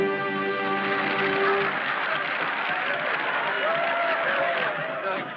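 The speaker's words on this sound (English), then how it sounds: "Hey, listen to them. They're still applauding." A theater audience applauds at the end of a stage show, a steady wash of clapping and crowd noise mixed with music, fairly loud and sustained throughout.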